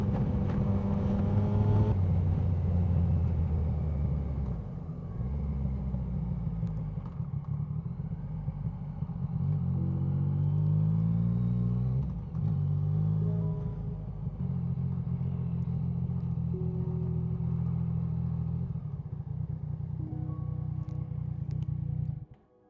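A motorcycle rides along a scenic country road between Shrewsbury and Ironbridge, its engine droning steadily and close with wind rumble, pitch rising and falling through gear changes and bends.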